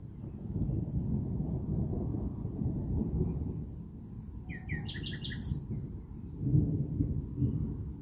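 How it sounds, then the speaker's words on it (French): Thunder from a summer thunderstorm rumbles low and fairly far off, a long rolling growl that swells twice, while birds chirp briefly in the middle. "Gros coup de tonnerre au nord."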